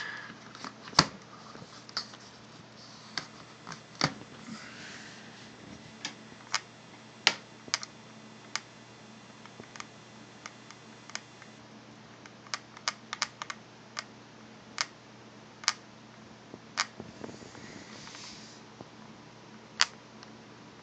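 The loose D-pad on a blue Nintendo 3DS XL is pressed again and again, making small sharp clicks and ticks at irregular intervals, close up against quiet background hiss.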